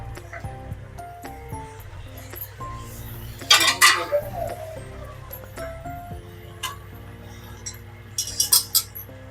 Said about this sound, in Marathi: आता आपण भाज्या टाकून घेऊया